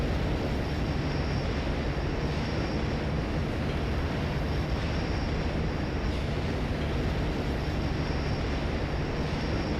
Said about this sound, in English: Exercise caution while the tram is in motion.